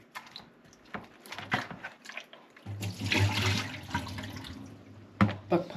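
Running water splashes and gurgles in a sink as homemade butter is washed under the tap, with squishing and handling sounds, close and uneven, louder in the second half.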